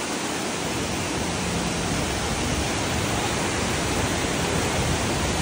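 Steady broadband roar of a high-pressure waterfall at Chonde, loud and constant throughout with no breaks and no voices.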